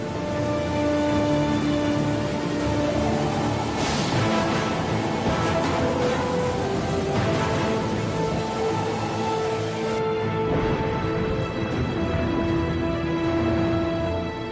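A storm at sea, with heavy rain hissing steadily and low rumbles of thunder rolling underneath, loud and continuous throughout, with no voices.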